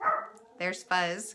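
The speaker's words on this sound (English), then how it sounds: "So sorry about the barking." A dog barks close by in two quick sharp yaps after a short whine, heard over someone speaking indoors.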